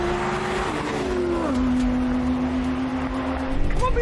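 A BMW M3 CS Touring and an Audi R8 GT launch in a drag race, loud engine roar with rising and shifting tones and a brief gear change, heard from close by, no talk.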